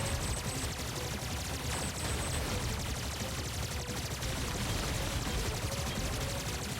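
Dense, continuous rattling gunfire from the Terminator 2D: No Fate video game plays alongside other game sounds, fairly faint and steady, with no talk over it.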